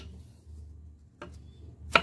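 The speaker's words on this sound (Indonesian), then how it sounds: "Kita potong kecil-kecil seperti ini bawang merah, juga bawang putih ya." A knife chopping shallots and garlic into small pieces on a board: two or three sharp, isolated cuts spaced apart over a low, quiet background.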